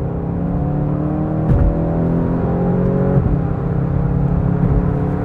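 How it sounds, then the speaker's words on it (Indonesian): A 2023 VW Golf GTI hums and revs steadily at close range, its artificial engine sound a smooth synthetic-sounding drone with a brief rise in pitch partway through. "cukup terdengar bukan suara mesinnya, tapi itu sebenarnya adalah suara dari artificial ya"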